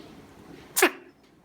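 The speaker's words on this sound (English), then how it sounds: "Oh, a little sneeze." A small animal gives one quick, sharp sneeze, close and brief against a quiet room.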